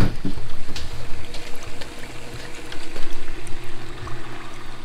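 A water pump circulates cooling water for a Monport K40 CO2 laser, producing a close, continuous gurgling and trickling flow with a pulsing low hum, with no voices.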